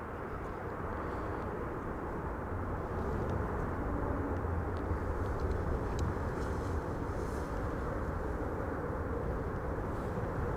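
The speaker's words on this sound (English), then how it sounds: "Let's also hear when an E2 Embraer from KLM passes by." A KLM Embraer E2 airliner passes by at an airport, a steady broad jet roar that swells slightly and holds for the whole stretch, fairly distant and unbroken.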